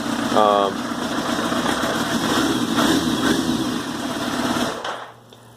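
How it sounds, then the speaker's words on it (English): A Yamaha FZR1000 motorcycle engine idles just after a cold start, a steady mid-pitched rumble running continuously up close, then dropping away near the end. "it starts right up"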